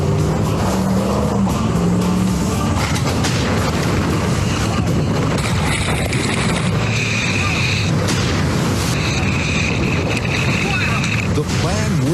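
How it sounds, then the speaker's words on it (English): A car plunges nose first into water, with heavy splashing and churning rumble, booming impacts and sustained water noise, loud and close, while voices talk over parts of it. "The plan works to perfection as the car pitches nose first and then settles roof side down."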